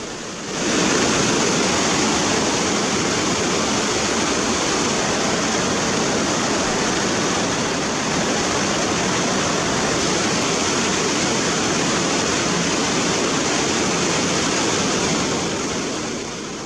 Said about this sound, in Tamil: வெள்ளி நீர்வீழ்ச்சிக்கு நீர்வரத்து அதிகரித்து அருவியில் தண்ணீர் ஆர்ப்பரித்து கொட்டுகிறது